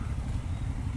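A KTM Duke motorcycle engine running with a steady, rumbling low-pitched drone and a slight mechanical clatter, heard close up for about a second with no speech.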